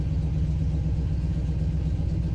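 A super stock truck engine with a truck cam idles steadily right after its ignition timing is set, a close, loud, even low rumble with no voices.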